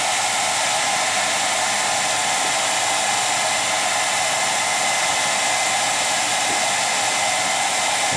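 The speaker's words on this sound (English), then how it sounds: "You don't want to get the dryer too close" A hair dryer blows steadily on a pet chicken being dried off, a loud continuous close whoosh with no break and no talking.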